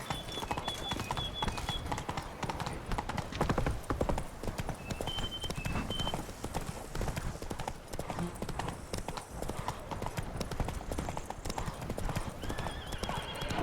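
A horse gallops in The Witcher 3: Blood and Wine, its hooves drumming fast and continuously, with a brief neigh. Faint game sounds run underneath.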